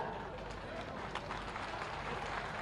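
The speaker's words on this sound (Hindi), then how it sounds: "प्लीज एक बार जोरदार तालियों के साथ" A large crowd claps and cheers at a political rally in Meerut for Chief Minister Yogi Adityanath, a loud, continuous wash of applause with no pauses throughout.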